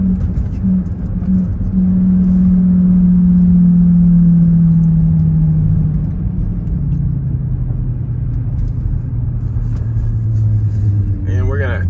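A car drives through a quiet LSU campus in Baton Rouge after Hurricane Ida. A loud, steady engine and road rumble hum from inside the cabin while a voice talks over it.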